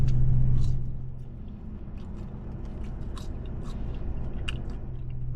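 Someone bites into and chews Captain D's fries up close. Soft, crunchy bites and chewing sound over a low car-like rumble and hum.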